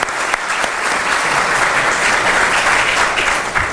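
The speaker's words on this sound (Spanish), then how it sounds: "Un voto de aplauso para el ingeniero." Audience applause fills the room after a mining engineering lecture on thickened and filtered tailings deposits, a steady dense clapping that holds loud and even throughout with no talk over it.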